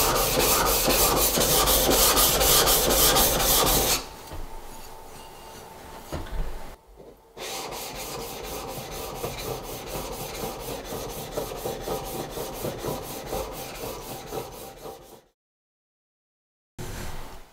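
Rhythmic back-and-forth rubbing of 400 grit abrasive against a wooden hand plane part, a steady raspy scratching that continues for most of the clip before stopping briefly and resuming at the end.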